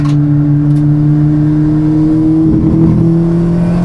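Car engine running under load in fourth gear, misfiring and struggling as it accelerates, with a steady loud drone and a rough, uneven patch toward the end.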